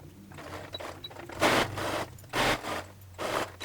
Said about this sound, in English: And then we're going to stitch with a 1/2" seam allowance.